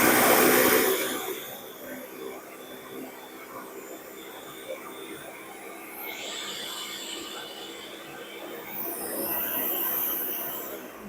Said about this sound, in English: When you just choose blend like that, the motor will get like started.